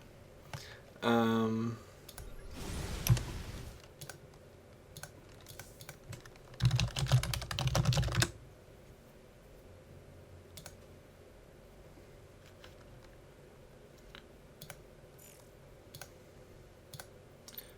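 Keyboard typing clicks in two short bursts of rapid tapping, fairly close and moderately loud, separated by quiet stretches with faint background hum; no one talks over it.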